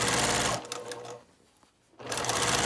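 Sewing machine stitching quilt blocks with a quarter-inch foot, a dense rapid run of stitches that stops for about a second and a half, then resumes at the same steady pace.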